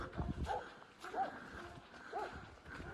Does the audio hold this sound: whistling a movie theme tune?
no